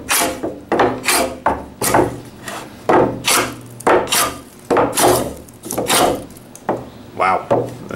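A homemade Japanese scrub plane (herashi kanna) takes thick shavings off a plain 2x6 board in a series of rasping, scraping strokes, about a dozen close passes in a steady rhythm.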